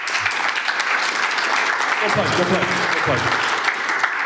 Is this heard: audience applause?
yes